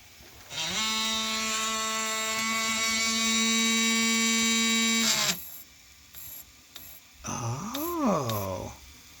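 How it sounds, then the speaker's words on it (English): A capstan motor in a 1990-era Emerson VCR765 gives a steady, loud whine for about five seconds, then stops. A wavering, rising and falling tone follows near the end. "It's actually the capstan motor."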